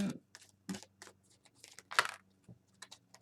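A deck of stiff Lovers Oracle cards being shuffled up close during a tarot-style reading, a run of crisp clicking and snapping card sounds with uneven spacing and one louder flick.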